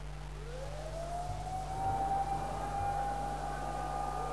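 An ambulance siren rises into a sustained wailing tone at a distance, faint beneath a steady low hum of background noise in Sana'a after a suicide attack.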